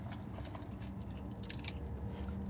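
Close, crunchy chewing of Nashville hot chicken pizza from California Pizza Kitchen, topped with carrots, bean sprouts, onions and peanut sauce; moist bites and crunches repeat irregularly over a low background hum.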